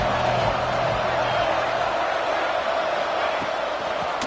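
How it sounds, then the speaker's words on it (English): A college football stadium crowd roars on third down, a dense, steady wall of cheering and noise that holds at an even level throughout without letting up. "Third down and the crowd really getting into it."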